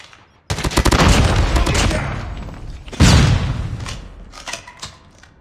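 A Semtex grenade explodes in Call of Duty amid a frontline firefight, giving a loud, close boom. Heavy automatic gunfire roars steadily around the blast and tapers off afterward.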